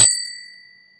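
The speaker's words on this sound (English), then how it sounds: "And hit that notification bell" One bright notification bell ding strikes and rings out, fading steadily over about a second with nothing else around it.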